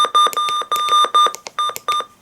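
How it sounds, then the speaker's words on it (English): A Givoust MD319 siren test: a harmonic electronic tone beeps in rapid, uneven bursts, loud and close, with short gaps between pulses and no talking. "Siren test."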